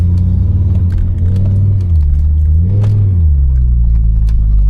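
A rally car at the Donegal International Rally roars past on a closed stage, its engine rumbling loud and close, the pitch rising and dipping as it accelerates and shifts, heard alone without talk.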